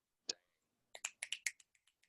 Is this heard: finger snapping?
yes